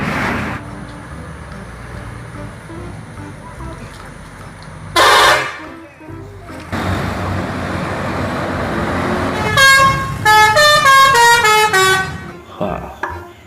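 Haryanto bus horn honking in a sequence of loud toots, with a sharp blast near the middle and a rapid run of melodic honks toward the end, over steady road noise and voices.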